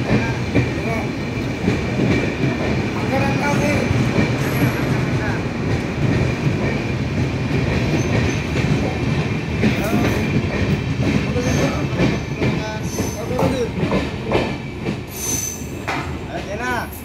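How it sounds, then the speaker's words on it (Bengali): A passenger train pulls out of New Jalpaiguri station bound for Kamakhya, loud and close, with rumbling cars, rhythmic wheel clatter and sharp metallic squeals throughout. "এখন কিন্তু এই ট্রেন ছেড়ে তার গন্তব্যস্থান কামাখ্যার উদ্দেশ্যে রওনা দিল"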